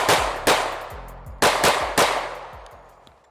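Sig P320 Flux Legion pistol with a compensator fired in a Mozambique drill: four loud, sharp gunshots in two quick pairs, each with a ringing outdoor tail fading away.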